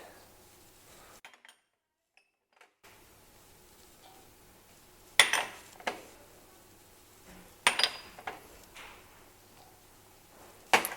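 A metal bowl clinks and clatters while spices go in for a Moroccan lamb tagine marinade, a few sharp metallic knocks spaced apart against a quiet room.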